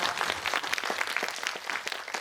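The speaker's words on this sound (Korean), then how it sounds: "여러분 박수 부탁드립니다" Audience applause at a fan event for a Netflix series screening, an uneven patter of clapping from a crowd, moderately loud and continuous through the short stretch.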